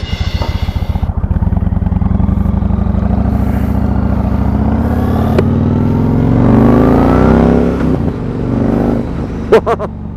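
A Yamaha MT-01 motorcycle engine throbs at a low, lumpy idle, then revs up hard into a loud rising roar before dropping back, with a few sharp clicks at the end, all recorded close by.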